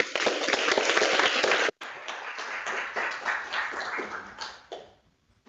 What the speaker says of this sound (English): let's give both our speakers a round of applause again